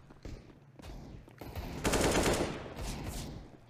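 Bursts of CZ75 pistol spray in a CS:GO match on Overpass, rapid shots in short clusters with a denser, louder volley in the middle, no talk over them.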